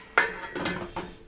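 A metal lid is set onto a frying pan on a stovetop with a sharp clank, followed by a couple of lighter knocks as it settles.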